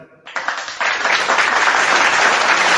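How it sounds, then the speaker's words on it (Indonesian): Applause breaks out from the audience at a religious debate in Indonesia. The clapping starts abruptly after a short moment of talk and swells into dense, steady clapping. "saya kira sesi ini saya patut mendapatkan tepuk tangan lagi."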